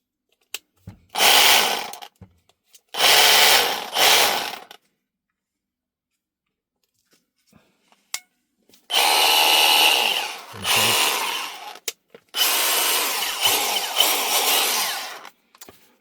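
A Milwaukee M18 CHX cordless SDS rotary hammer drill, just repaired, runs in four bursts, two short and two longer, with silent gaps between, loud and close.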